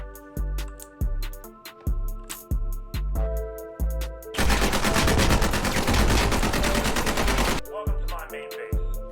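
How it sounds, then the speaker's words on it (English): Gunfire in a live fire exercise in the game Squad: a rapid series of sharp shots gives way to a dense, sustained burst of automatic fire, then more spaced shots, loud and close. "This next evolution will get you used to what it's like to be under fire. You will be stressed, and this is a live fire exercise."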